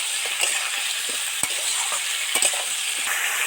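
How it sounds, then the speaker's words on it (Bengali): Potatoes and tomatoes fry in a pan with steady, close sizzling, broken by a few sharp clicks and scrapes as a spatula stirs them. "একটু আলু আর টমেটো একটু ভালো করে ভেজে নিলাম"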